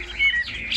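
A caged Chinese hwamei songbird gives a short, bright whistled phrase nearby, clear and fairly loud over faint background hiss.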